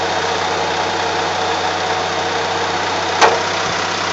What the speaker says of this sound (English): That's a hydraulic pump running that hydraulic cylinder right there.